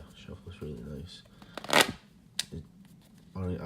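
Cards being riffled and shuffled close by, with crisp bursts of flapping and snapping, while a person keeps talking throughout.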